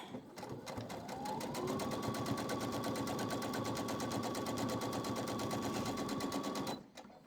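A sewing machine stitches a line on a quilt in one continuous run of rapid, even needle strokes lasting about six seconds. It is close and loud, and a steady whine sits under the clatter.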